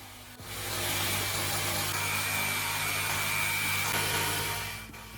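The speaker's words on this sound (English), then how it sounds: "cut them into shorter sections using a saw" A saw cutting wooden pallet slats into shorter sections, giving a loud, continuous whirring buzz that starts abruptly, holds steady for several seconds and then winds down, heard close up with no talking.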